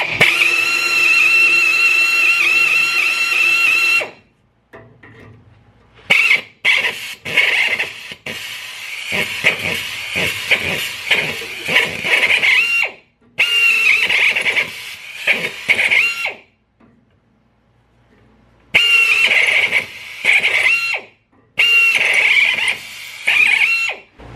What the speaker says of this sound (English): I'm going to ream those as well